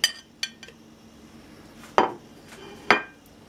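Chopped hot pepper for a fiery Bajan hot sauce drops into a bowl, giving a few sharp, close clinks and knocks against the dish, spaced out with quiet between them.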